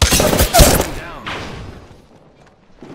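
Gunfire in Apex Legends hits in a dense burst of sharp reports at the start, then trails off into a fading echo while a voice talks over the shots.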